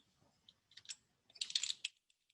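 Short bursts of computer keyboard typing as a name is entered, a few quick keystroke clusters with small gaps, close and crisp.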